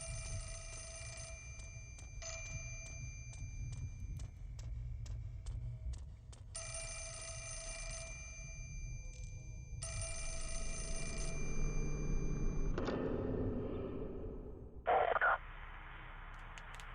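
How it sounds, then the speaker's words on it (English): An old telephone bell rings in repeated bursts inside the horror video game Fatal Frame: Mask of the Lunar Eclipse, clear and loud over low ambient hum, then stops as a brief noisy sting follows. "The phone is ringing."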